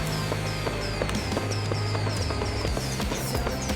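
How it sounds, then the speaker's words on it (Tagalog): Sharp pops and crackles burst repeatedly over a dense, rumbling background of a crowded outdoor scene, like fireworks going off nearby. "Ito fireworks."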